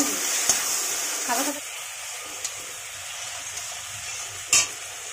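Pointed gourd and kundru fry side by side in one pan with dried red chillies, a steady close sizzle broken by a few sharp utensil scrapes as the pieces are stirred.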